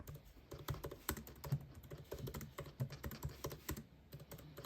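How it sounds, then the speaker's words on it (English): Fingers type quickly on a MacBook Pro 14 scissor-switch keyboard, making soft, close, rapid clicks in an uneven stream with no talking. "the new scissor switch keyboard sounds amazing when you're typing on it"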